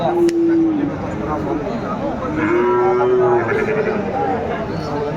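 Sahiwal cattle at a busy livestock market, with two drawn-out moos rising over steady crowd chatter and people talking nearby.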